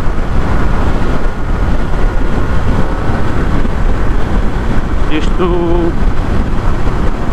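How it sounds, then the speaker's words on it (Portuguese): Strong wind roars steadily in a rider's helmet at highway speed on a 2020 BMW F900R motorcycle, loud and continuous with almost no engine sound, while a voice briefly speaks near the end. "já vamos aqui a levar com bastante vento no capacete"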